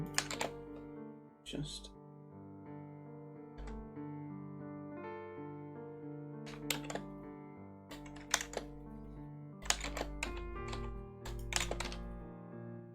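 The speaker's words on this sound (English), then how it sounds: "sorry if you can hear my keyboard really loudly" Computer keyboard keys clack in scattered bursts, loud and close to the microphone, over a background of sustained tonal music.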